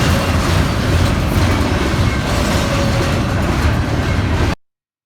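A train rumbles past close by, a loud continuous roar with rattling clatter that holds steady before cutting off abruptly.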